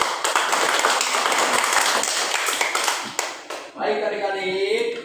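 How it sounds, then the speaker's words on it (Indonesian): A school class claps together, a burst of quick, dense hand claps close by that stops abruptly, followed by a brief quieter stretch where a voice speaks. "Tepuk tangan dulu."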